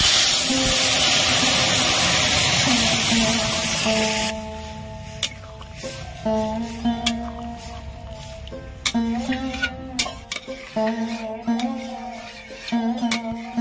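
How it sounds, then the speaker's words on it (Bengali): Dal poured into a hot tempering of chili and asafoetida hisses in a loud burst of sizzling steam for about four seconds, then settles into quieter bubbling with scattered clinks of a metal pot and utensil. "হিং দিয়ে দেবো। ডালটা ঢেলে দেবো।"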